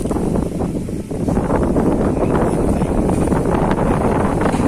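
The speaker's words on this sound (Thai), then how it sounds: "วันนี้ลมแรงมาก" Strong gusts roar steadily across an outdoor fish pond, a loud, continuous wind buffeting the microphone with broadband rumble throughout, no voices heard.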